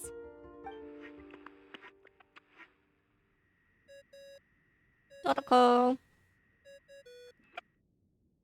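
A synthetic phone ringing tone in the Genshin Impact video game chirps in short, repeated electronic beeps, with a brief louder burst in the middle, over near-silence after a few spoken words.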